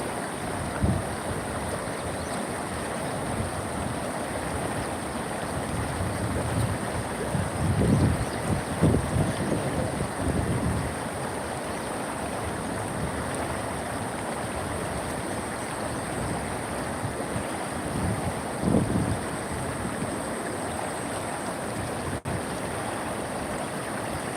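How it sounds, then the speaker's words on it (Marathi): Heavy water of a flooded river rushes steadily and loudly throughout, with occasional wind gusts thumping the microphone. "पूर आलेला आहे नदीला"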